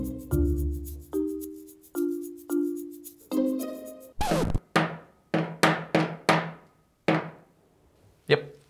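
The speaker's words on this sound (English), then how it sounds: "your hammering skills look like this." Sharp metallic hammer strikes on a nail ring out one after another, first spaced with ringing tones, then a quicker burst of blows.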